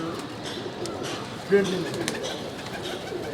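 Breeding pigeons cooing softly in a loft, low murmuring coos under steady background noise while someone talks.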